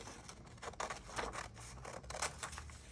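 Scissors cutting through paper or craft material, soft crisp snips close by, quiet and without talk.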